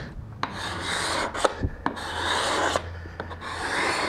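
A Veritas cabinet scraper is drawn across a cherry wood surface in repeated rasping strokes, a close, steady scraping hiss broken by brief pauses and small knocks between passes.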